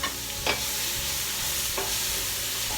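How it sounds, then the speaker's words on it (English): Jackfruit for BBQ sandwiches sizzles in a hot pan, a close, steady frying hiss broken by a couple of brief stirring scrapes, with no talking. "I'm gonna turn down the heat a little bit, but we're letting it saute."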